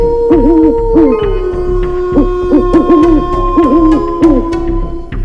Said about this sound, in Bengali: দূরের জঙ্গল থেকে শেয়াল আর পেঁচার ডাক শোনা যাচ্ছে।